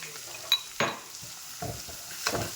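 Food sautéing in a pan: a soft sizzle with a few distinct scraping stirs and a light metallic tap, close by and fairly quiet, no voices.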